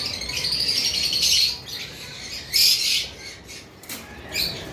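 Cockatiels at a bird farm give several loud, harsh squawks and chirps in bursts, with brief wing flapping and steady chatter between calls, close by.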